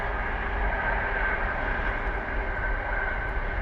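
A train runs near a fishing lake at Barston Lakes during an angling championship, a continuous low rumble and rushing drone at steady moderate level, with no voices over it.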